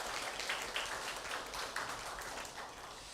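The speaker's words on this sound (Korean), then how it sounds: "한번 박수 한번 보내주시기 바랍니다." Congregation applause in a Korean church Sunday worship service, a steady, moderately faint wash of many hands clapping together, fairly distant and even throughout, with no talking.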